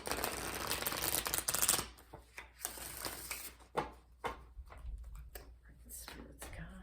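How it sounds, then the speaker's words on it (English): Spirit Animal Oracle cards being shuffled up close, a dense riffling rush at first, then scattered crisp card slaps and flicks, quiet overall. "I'm going to pull you a Spirit Animal Oracle card to end the reading."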